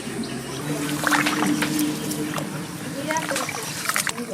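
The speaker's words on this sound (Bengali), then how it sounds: "চালটাকে একটু ধুয়ে নেব ভালো করে।" Gobindobhog rice being washed in water in a village kitchen: steady sloshing and splashing of grains rubbed by hand, close and continuous, with faint voices in the background.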